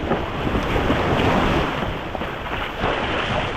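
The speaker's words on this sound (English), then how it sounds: "That's a big freaking wave." A big ocean wave surging in while fishing at sea: loud, broad rushing surf mixed with heavy wind buffeting across the whole stretch, no voices.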